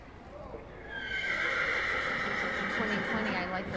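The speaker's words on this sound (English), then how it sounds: "This is my next favorite quarter horse stallion." Quarter horse stallion whinnying loudly and close, a long sustained call that holds for most of the few seconds, with faint movement noise underneath.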